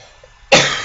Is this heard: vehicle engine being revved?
no